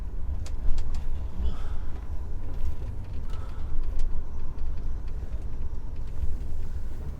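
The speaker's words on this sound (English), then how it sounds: "spin around here and back up" A car turns around and reverses, its engine a steady low rumble close by, with faint bird calls and a few light clicks over it.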